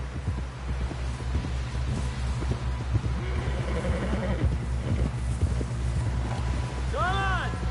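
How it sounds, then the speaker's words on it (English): Horse in a video game gallops with steady rhythmic hoof thuds over game music and a low hum, and near the end a clear whinny rises and falls. Someone talks throughout. "Someone help John down off this horse."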